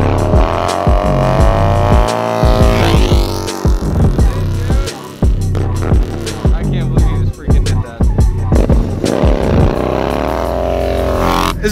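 A Yamaha Bolt motorcycle ridden hard in a parking lot doing drifts and wheelies, its engine loud and close, revving up and down with rising and falling pitch throughout.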